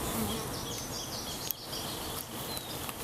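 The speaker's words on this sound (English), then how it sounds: "so that those last few bees can actually get in there." Honeybees buzz steadily around a newly installed hive entrance, a soft continuous drone with individual bees passing near and away, and no voices.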